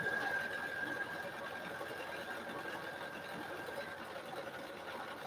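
A sewing machine stitching a double buttonhole whirs in a fast, even, continuous patter close by, steady throughout with no talk.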